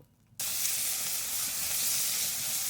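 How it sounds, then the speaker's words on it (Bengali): Panch phoron spice mix and chillies hit hot oil in a pan where fish was just fried, bursting into a loud, steady sizzle after a brief quiet moment and holding at full strength throughout. "তো এবার তেলে আমি পাঁচফোড়ন আর লঙ্কা দেব।"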